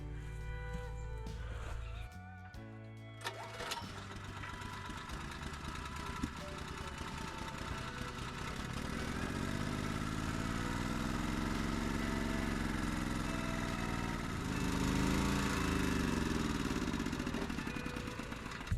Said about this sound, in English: I'm gonna make sure the generator runs with a new carburetor, and I'm gonna check for leaks